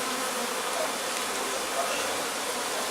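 Honey bees buzz continuously around a hive that is being relocated, a close, steady swarm drone that holds at an even level throughout.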